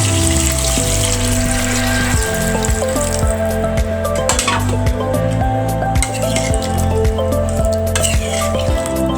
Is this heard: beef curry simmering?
yes